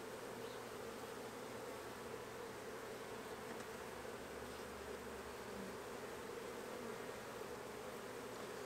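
Honey bees from a caught swarm buzz steadily around an open hive, a faint, continuous low drone with no talking.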